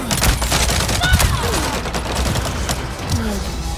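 Rapid gunfire in the video game Avatar: Frontiers of Pandora, dense bursts of overlapping shots and booms filling the whole moment, loud and close, with a player talking underneath.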